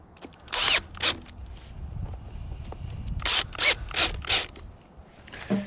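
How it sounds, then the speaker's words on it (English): No-hub pipe coupling clamp being tightened outdoors with a ratchet or nut driver, bursts of quick rasping clicks in short runs, close and moderately loud. "Now we'll tighten up this no hub."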